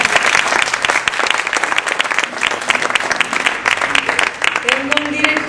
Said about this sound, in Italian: Con un applauso forte.